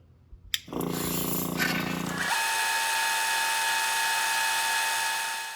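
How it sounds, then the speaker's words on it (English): A vacuum pump on a Sterlitech recovery kit, hooked to a skid filtration system, starts with a click and a rising mechanical rattle. It then settles into a loud, steady whine that keeps going to the end. "then we're going to turn on our vacuum pump"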